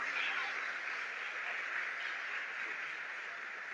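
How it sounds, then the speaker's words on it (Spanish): Audience applause rings out for a church liturgy team at a liturgy workshop, a steady, dense wash of clapping sustained from start to finish with no pauses. "Y al equipo de liturgia, un aplauso muy bien."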